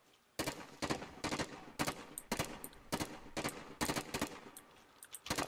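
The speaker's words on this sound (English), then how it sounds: "that was them firing back at us" Enemy gunfire in Call of Duty Warzone, a long run of sharp automatic bursts roughly every half second to one second, each shot loud and close, with no talk over it.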